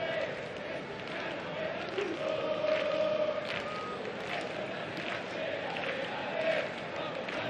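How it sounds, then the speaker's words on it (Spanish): Cádiz football fans make a steady, distant crowd roar throughout a preseason match against Las Palmas, with rising surges of chanting and cheering under commentary. "Animoso el público de Cádiz."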